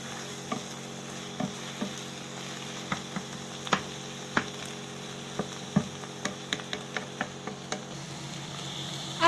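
Spinach fries in a pan, giving a soft steady sizzle broken by irregular sharp crackles and pops, fairly quiet and close, with no voices.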